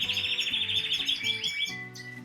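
A Spanish Timbrado canary sings a deep note, a rapid rolling trill with pulsing repeated low tones beneath it, close and clear for about two seconds, no voices.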